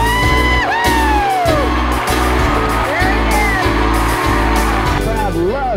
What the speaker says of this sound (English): Listen to that crowd at the slow pitch.